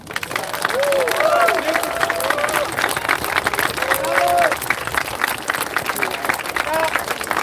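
Outdoor group at Stone Mountain breaking into scattered clapping and cheering, with voices talking and calling out over the applause throughout.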